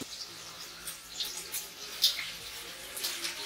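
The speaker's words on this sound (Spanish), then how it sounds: "ya podemos pasar a añadir el agua" Water is poured into a frying pan of sautéed ingredients while cooking a rice dish, producing a faint, steady splashing and hiss with small bubbling spikes.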